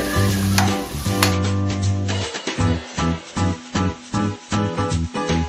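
Sardines sizzle in oil in a pan for pasta aglio olio, a steady close frying hiss broken by rhythmic stirring or tossing pulses in the second half, with no talking.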